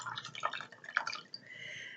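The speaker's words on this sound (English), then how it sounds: "rinse my wigs in ice cold water." Water drips and splashes as a wig is rinsed in ice cold water, a few close, distinct drops and splatters over a steady wet background, without talking.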